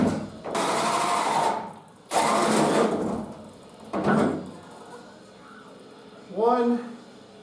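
A handheld power shear cuts into the sheet metal hood of a Jeep YJ in three loud buzzing bursts, each a second or two long, followed by quieter pauses and a short voice near the end.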